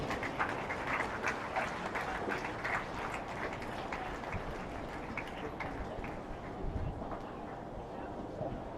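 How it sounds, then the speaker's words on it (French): An audience at the Open de France Mixte 2017, France versus Sweden, applauds Christophe Michaud with moderate, steady clapping that fades toward the end, while a voice carries on talking beneath it. "je vous demande d'applaudir M. Christophe Michaud"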